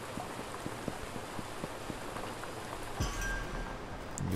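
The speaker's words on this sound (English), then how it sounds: "And it's freaking raining." Steady rain falls in the video game Drug Dealer Simulator 2, a continuous soft hiss with faint dripping patter, a low rumble swelling near the end.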